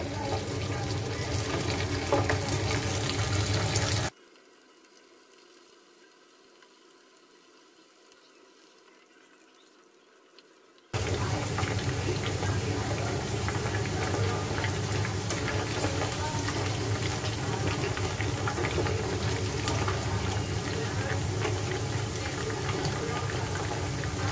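Pakoras fry in hot oil with a loud, continuous bubbling sizzle that drops to near silence for several seconds in the middle, then resumes at full strength.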